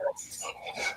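A dog at a sawmill gives short, close barks and yelps in quick succession.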